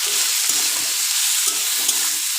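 Tomato frying in a pan with salt for a Bengali fish curry, a loud, steady sizzle with soft stirring scrapes at intervals, close and continuous with no talking.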